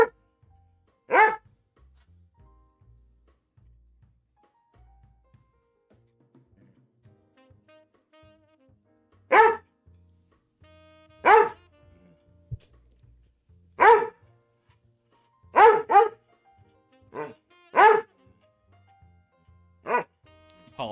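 A dog barks in short single and double bursts at irregular intervals, fairly loud and nearby, with near silence between the barks.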